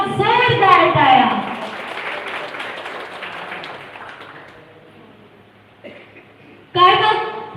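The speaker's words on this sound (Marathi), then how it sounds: "या टीमसाठी पुन्हा एकदा जोरदार टाळ्या" Loud crowd applause for the team at a Marathi song launch event, strong at first and fading away, then a fresh burst of clapping near the end, with a voice briefly audible.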